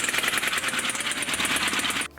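A small petrol generator charging a car battery runs close by with a rapid, rattling rhythmic chatter that holds steady, then cuts off abruptly at the end.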